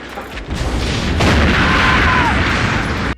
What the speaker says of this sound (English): All this does is cause a car accident and an explosion that kills one of her teachers.